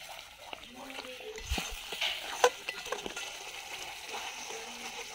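Masala for a duck curry fries in a pan and gets stirred. Soft, sporadic sizzling and scraping strokes come up close but faint.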